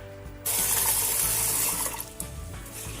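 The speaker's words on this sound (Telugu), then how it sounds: "దీన్ని అయితే 2 సార్లు వాష్ చేసుకుని ఒక 10 నిమిషాలు నానబెట్టుకుందాం." Tap water gushes suddenly into a vessel as toor dal lentils are rinsed, a loud, close, steady splashing stream that begins after a short quiet moment and carries on with small splashes.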